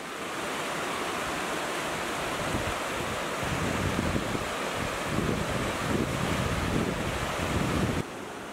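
Continuous rushing of the River Lennon in Donegal after rain, a steady broadband roar with no voices, slightly gustier in the middle.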